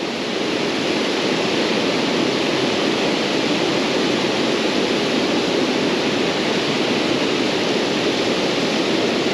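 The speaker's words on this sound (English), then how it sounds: "Yeah, the water is ripping pretty good," Fast river rapids rush in a loud, continuous roar of churning water, steady and unbroken throughout at close range, with no voices.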